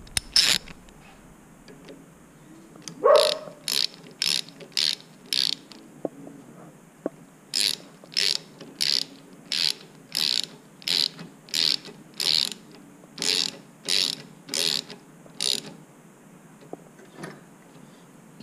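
A ratchet tightening a nut on a Crankbrothers Mallet bike pedal, giving a steady run of sharp clicking bursts, close and clear, with short pauses between strokes.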